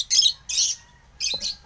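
African lovebirds giving bursts of sharp, high chirps, about four short squawking calls in quick succession with brief gaps, close and fairly loud, no talk.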